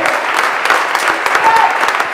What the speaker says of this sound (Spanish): Denle un fuerte aplauso a estos jóvenes que están aquí